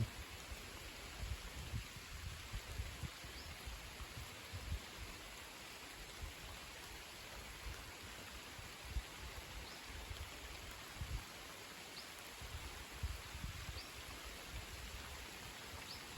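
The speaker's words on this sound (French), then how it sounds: "Là, ça pleut bien quand même." Steady rain falls in a continuous soft hiss of droplets, even and unbroken throughout, with no voices.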